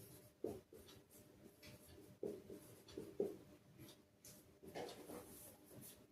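A pen writes a definition for a Class 10 physics lesson in quiet, faint scratchy strokes with a few louder taps, separated by short pauses.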